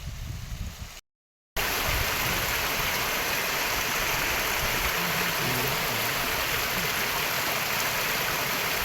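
A Himalayan mountain stream rushes loudly and continuously, a dense steady wash of flowing water after a brief gap near the start, with no talking.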